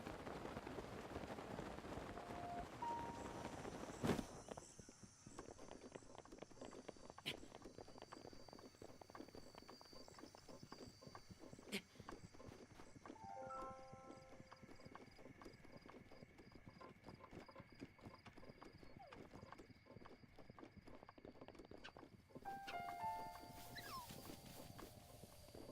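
Horse hooves clip-clop steadily in The Legend of Zelda: Breath of the Wild, a continuous rhythmic trot at moderate level over an outdoor ambience, with brief chime-like game tones near the end.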